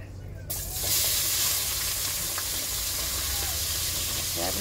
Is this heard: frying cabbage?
yes